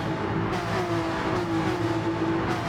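Porsche race car in Gran Turismo Sport running flat out down a long main straight, a loud steady engine drone holding high revs with a sustained tonal whine and no talk over it.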